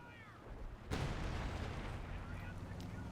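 Shells from a leFH 18 howitzer land in a video game battle, a sudden heavy boom followed by a long rumbling, moderately distant roll of blast noise.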